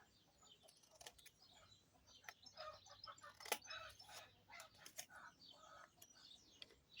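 Hens and a rooster cluck and call outside a window amid other farm animals, distant and faint, scattered chirps and clucks over a low background rumble.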